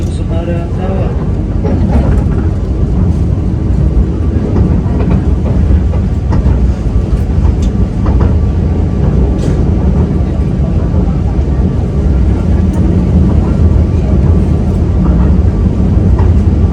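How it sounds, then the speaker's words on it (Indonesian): The Banyu Biru passenger train pulls into Semarang Tawang station with a loud, continuous low rumble of wheels and carriages, faint rail clicks, and voices mixed in underneath. "Sesaat lagi kereta api Banyu Biru akan tiba dan berada di stasiun Tujuanagar"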